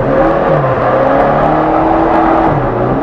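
An SR20-powered Nissan 240SX engine revs hard and continuously while drifting donuts, a loud, close, sustained engine drone with shifting pitch as the throttle is held steady.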